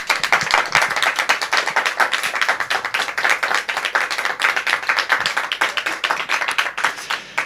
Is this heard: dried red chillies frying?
no